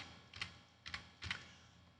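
Three short, quiet bursts of keystrokes on a computer keyboard, evenly spaced, each a quick cluster of soft clicks close by with silence between them.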